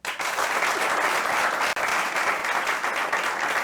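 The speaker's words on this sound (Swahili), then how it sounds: "Wapi makofi yake?" Studio audience applause rings out for a guest on a live Kenyan TV talk show, steady and full, clapping sustained for several seconds with a brief dip midway.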